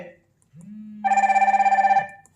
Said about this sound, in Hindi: आपकी वॉच कर रही है वाइब्रेट और इसमें रिंगटोन भी बज रही है।